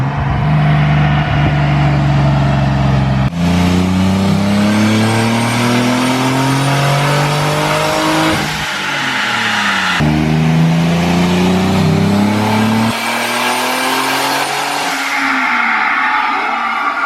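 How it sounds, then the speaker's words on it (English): A turbocharged BMW E36 runs hard on a dyno, its engine roaring loud and close through repeated rising revs in long pulls, dropping off and climbing again across several gear sweeps. "So apparently I'm spinning on the dyno, so we gotta have people kind of stand on the trunk a little bit."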